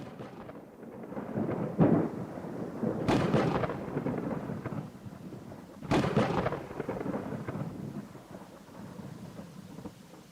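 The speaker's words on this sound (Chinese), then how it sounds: "雷" Thunder in a rainstorm, with two loud close cracks that roll into long rumbles over steady falling rain, no talk.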